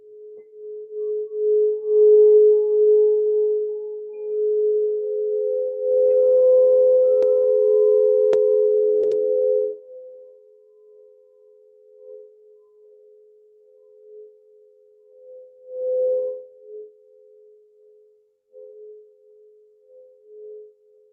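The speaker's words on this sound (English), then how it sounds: "I have two bowls at the same time." Two crystal quartz singing bowls ring together, their sustained pure tones overlapping and beating as they blend, loud at first, then softening into fainter lingering hums with brief swells.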